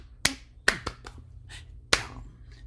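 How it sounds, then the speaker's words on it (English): A single person claps a rhythm during an active listening exercise: sharp, close hand claps spaced irregularly, with a couple of softer taps between the louder strikes, in an otherwise quiet room. "you can hear that I'm clapping"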